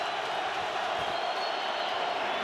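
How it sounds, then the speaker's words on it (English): Stadium crowd at an NFL game, Rams at Browns in 2019, roaring on a third down and 11, a steady, dense wall of distant noise with no breaks. "Crowd roaring on a 3rd down and 11."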